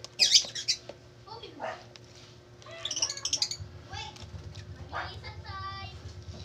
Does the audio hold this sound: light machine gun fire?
no